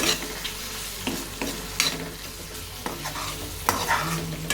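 Ridge gourd fry sizzles in a pan while being stirred, a close steady hiss punctuated by irregular scraping strokes of a spatula, with no voices.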